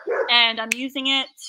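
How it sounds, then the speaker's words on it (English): A dog barks and yips close by in a few quick, loud bursts, mixed in with a person talking outdoors. "sorry, that's my dog"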